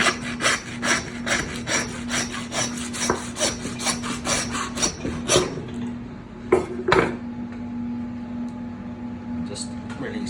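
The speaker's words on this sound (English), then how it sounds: "put the knife down the sirloin side, and then we start sawing" Repeated rasping strokes of a knife sawing through beef sirloin, a steady back-and-forth rhythm up close, with a constant background hum and a few knocks.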